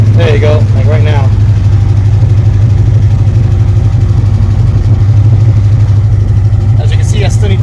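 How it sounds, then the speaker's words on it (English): The engine of a 1980 Chevrolet Malibu Classic Wagon fitted with a BBK throttle body runs loud and close with the throttle held open, a steady heavy drone with small surges and a few brief noises over it. "there is part where I can actually keep the throttle open for a little bit"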